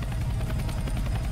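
Helicopter in the Roblox game Heli Rush, a steady rhythmic rotor thump with a low drone, close and loud, alone without talk.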